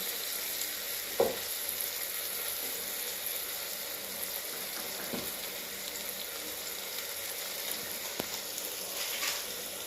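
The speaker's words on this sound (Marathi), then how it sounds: "गॅस कमी जास्त करत करत हे सगळं साहित्य परतून घ्यायचं" Biryani ingredients sautéing in oil in a pan on a gas stove, a loud, continuous sizzle with a few brief knocks of stirring, heard up close with no talking.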